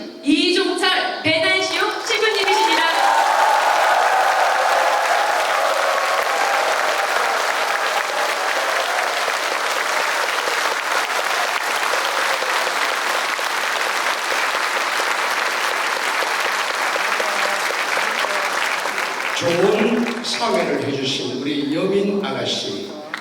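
Long, loud audience applause after a cantata performance on Korean martyrs, sustained clapping for some twenty seconds, framed by someone speaking into a microphone at the start and end.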